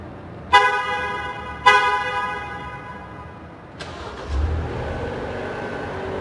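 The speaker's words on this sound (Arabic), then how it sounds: "Ça a passé le démarrage à distance." A used Maserati starts by remote start: two sharp horn-like chirps, then a click and the engine catching into a low idle rumble that carries on steadily to the end, no talking.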